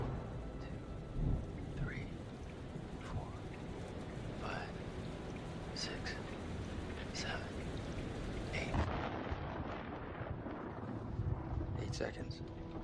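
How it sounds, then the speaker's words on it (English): Thunderstorm in the video game Man of Medan, with rain hissing steadily and deep thunder rumbling, while voices talk faintly over the storm. "The storm's 8 miles away."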